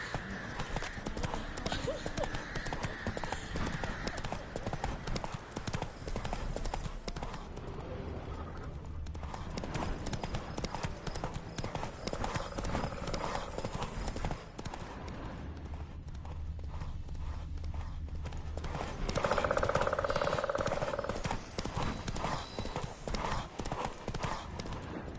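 Horse hooves gallop in The Witcher 3 with a fast, continuous clip-clop that persists throughout and is joined by a brief whinny, while a voice urges the horse on.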